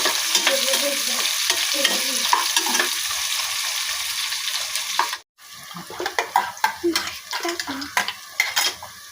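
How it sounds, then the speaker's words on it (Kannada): Sliced onions sizzling and frying in oil in a pan for egg biryani, with a spoon scraping and stirring through them in repeated strokes, the sizzle steady and close, briefly dropping out for a moment midway. "ಈರುಳ್ಳಿ ಚೆನ್ನಾಗಿ ಫ್ರೈ ಆಗುತ್ತೆ"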